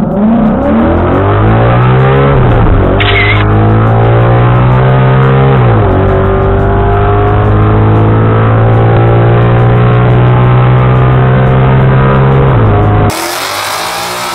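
A Ford Mustang accelerates hard on a warm-up track run, loud and close, its engine pitch climbing through several gear changes in rising sweeps before it cuts off abruptly near the end.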